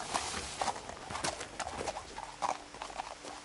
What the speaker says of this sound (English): A deer that sounds like a horse.